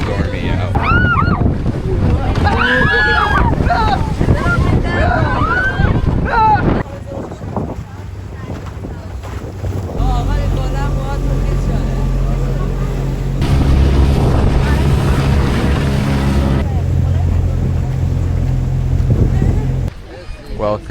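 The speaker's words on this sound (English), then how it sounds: "they are launching us on the waves here. It is so stormy out." A crowded tourist boat off Qeshm Island in Iran speeds over stormy, rough ocean waves, with loud engine roar, wind buffeting the microphone and heavy slaps of water, while people talk and shout aboard.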